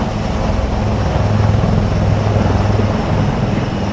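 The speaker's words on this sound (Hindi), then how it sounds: "आर्मी एविएशन के 3 उन्नत हल्के हेलीकॉप्टर ध्रुव" Army Aviation HAL Dhruv advanced light helicopters flying over a Republic Day parade, a steady loud rotor and engine roar with a low droning hum that stays constant throughout, no voices.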